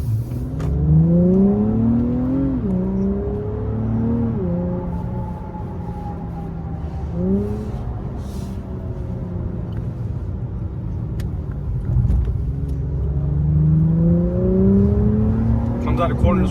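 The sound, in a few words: Acura TLX Type-S engine revving while driving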